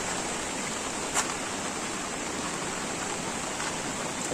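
A river runs high under a bridge in Furus village near Dapoli–Khed during heavy Konkan monsoon rain, giving a steady, loud rushing wash that holds even throughout.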